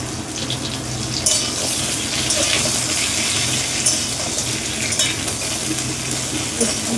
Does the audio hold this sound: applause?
no